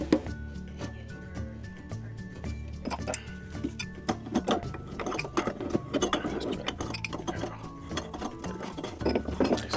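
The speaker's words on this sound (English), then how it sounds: "So I switched to locking pliers to keep the drain from spinning." Locking pliers clamp a kitchen sink drain basket while it is unscrewed, giving close, irregular metallic clanks, scrapes and ratcheting clicks in quick bursts.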